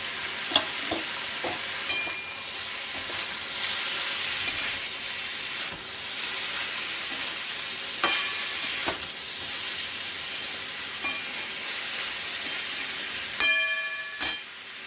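Spiced potatoes fry in a pan with a continuous close sizzle and hiss. Occasional sharp clinks and scrapes of stirring come through, with no voices.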